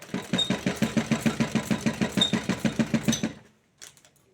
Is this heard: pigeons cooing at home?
no